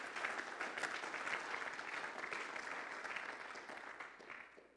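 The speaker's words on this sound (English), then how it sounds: "Give the Lord a big hand clap of praise" A church congregation claps in praise during a sermon, a dense, steady wash of many hands that holds strong and then gradually thins and fades toward the end.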